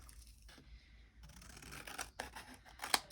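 Scissors trim paper while a small flip flap folio is being made, giving quiet, uneven snips and crinkles with one sharp, louder cut near the end, close by and without talk.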